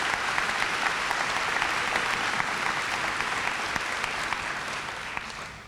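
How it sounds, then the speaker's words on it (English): An audience at a town meeting applauds steadily for several seconds, a dense even patter of many hands that tapers slightly at the end. "so I think that deserves a round of applause"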